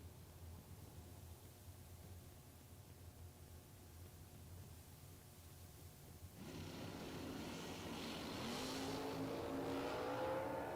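Doorslammer drag racing cars launch down both sides of a racetrack, distant crowd ambience giving way to a sudden loud rising engine roar that builds and holds, with no talk.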